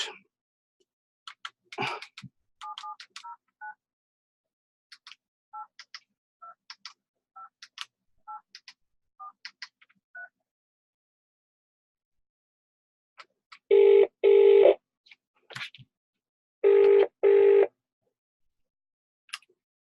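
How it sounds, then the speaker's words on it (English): Scattered soft clicks and brief tones of a phone being dialed, followed by two bursts of ringing tone. "So I'm going to give them a ring now."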